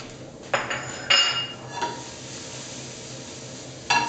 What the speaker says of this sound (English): Take my spoon and just scoop out any part that doesn't look too good